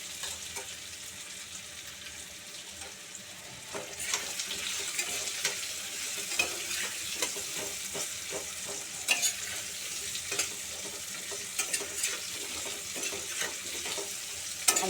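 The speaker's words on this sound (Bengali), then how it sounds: "আগে হলুদটা একটু ভাজা ভাজা করি" Turmeric fries in oil in a pan while being stirred, for a Bengali banana-flower ghonto. A continuous moderate sizzle runs throughout, with intermittent utensil scrapes and clicks that grow busier after the first few seconds.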